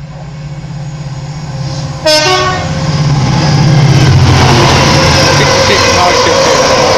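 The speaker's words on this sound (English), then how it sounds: "it looks like a Freightliner 66 coming on its way up" A freight train hauled by a Class 66 locomotive rumbles past at Acton Bridge, with a sharp horn blast partway through, the roar building and staying loud and close to the end.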